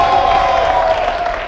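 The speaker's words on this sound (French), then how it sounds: "plus d'applaudissements que ça, s'il vous plaît" A French television studio audience claps and cheers on a variety show, a dense, steady wash of applause at fairly close range that holds for the whole moment without any talk over it.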